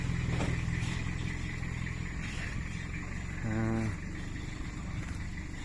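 A vehicle driving to turn around at a rural home site during cleanup work, a steady engine drone with a brief rise in revs midway, quiet and somewhat distant.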